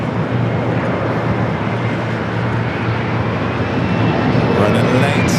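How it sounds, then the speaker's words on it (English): American Eagle SkyWest Embraer E-Jet arriving at LAX, a steady broad jet roar with a faint rising whine near the end, with a voice talking over it. "Next arrival is another EJet American Eagle SkyWest Flight 4910 coming from El Paso, Texas."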